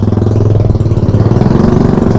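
A 16-year-old carburetted Honda Beat scooter engine runs loud and close, with a steady rapid putter and slight rattle, no talking.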